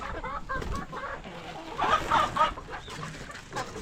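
Hens cluck repeatedly at close range in a village yard in rural Africa, a busy overlapping stream of short calls with no talking.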